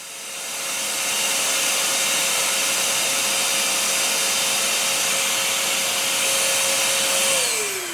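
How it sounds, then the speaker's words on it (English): A homemade cyclone dust extractor for sanding spins up with a steady loud whooshing roar and a constant whine, then the pitch drops as it begins to wind down at the end. "whenever I go to sand, the dust extractor turns on"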